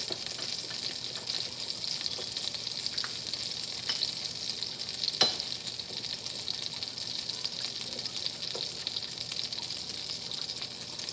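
Butter heats in a pan, giving a steady, soft hiss of sizzling with a few faint clinks, alone and fairly quiet throughout.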